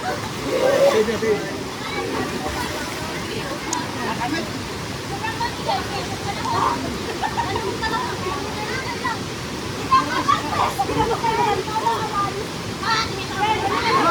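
Rushing water of Bagani Falls, a waterfall in Bukidnon, fills the scene as a steady broadband wash, with voices talking and calling over the constant roar.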